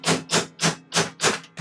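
A small hammer taps a metal punch to drive a ring gear out of an RC differential, six sharp, evenly spaced metallic strikes in quick succession, close and clear with no talking.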